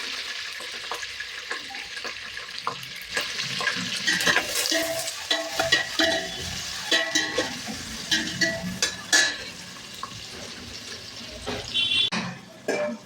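Onions being fried in a pan for chicken biryani and stirred repeatedly, giving a steady close sizzle broken by scraping, clattering stirring strokes throughout.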